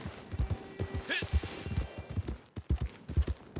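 Horse hooves clip-clop in a rapid rhythmic gallop in Red Dead Online, steady beats continuing throughout, with a brief metallic game sound partway through.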